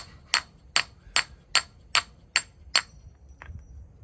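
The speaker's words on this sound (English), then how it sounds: "hammer's purpose is to hit things." A hammer strikes knife steel during abuse testing of blade spines, seven sharp, evenly spaced ringing impacts followed by a fainter eighth hit, each clanging clearly against a quiet background.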